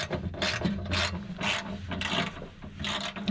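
Bolts being loosened on a metal piece in a Mazda Miata trunk, a rhythmic ratcheting and grinding rasp repeating about twice a second, close and moderately quiet.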